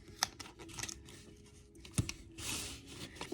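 Adhesive tape is pulled, torn and pressed onto paper for a craft piggy bank, with a few sharp crinkly rips and taps followed by a longer rasping strip, close and quiet.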